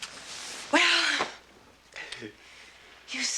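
A single loud sneeze from a woman in a 1978 period drama household scene, a sharp burst followed by quieter rustling and a brief voice afterward.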